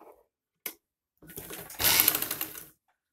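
A sewing machine stitches onto buckram for a high-neck Chinese collar: a short tap, then a brief rising whir of rapid stitching that stops abruptly, close and alone.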